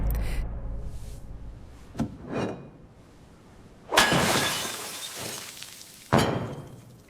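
A hammer held in a gloved hand strikes glass, giving several separate crashing hits with bright splintering bursts spaced a couple of seconds apart, the strongest near the middle, each trailing into faint tinkling debris, with no voices.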